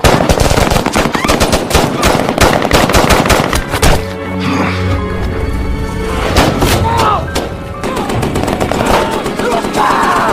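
Loud sustained machine-gun bursts and heavy gunfire from a Taliban attack on French special forces in a war film, with a booming impact near the middle followed by scattered shots over a dense battle mix.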